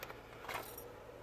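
A set of keys jingles briefly and quietly as they are picked up, a soft metallic rattle over low background hum.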